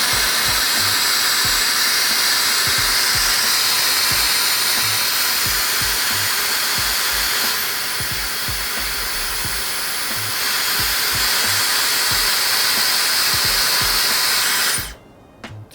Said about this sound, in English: So I knew the blow dryer or the hair dryer wouldn't be silent